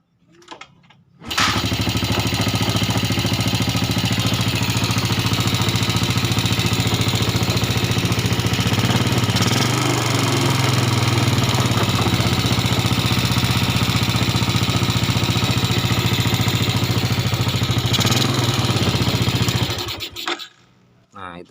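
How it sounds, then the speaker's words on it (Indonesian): A Yamaha Jupiter motorcycle engine, fitted with a piston and connecting rod from a Mio, starts and idles roughly in a workshop, a loud, close, continuous throb with an uneven rattle that runs for about twenty seconds before cutting off, with some voices underneath. "kita mau cek sound dulu, suaranya seperti apa, kita hidupkan ya lur"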